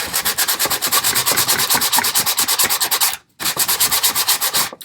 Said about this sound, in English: So I'm just going to do a little bit of sanding.